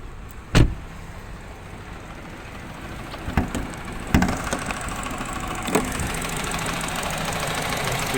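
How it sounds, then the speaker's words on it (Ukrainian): A Peugeot 207 SW with a 1.6 non-turbo petrol engine, a low steady hum running throughout, broken by a few sharp clunks and knocks near the car. "Зараз продемонструю, як працює двигун"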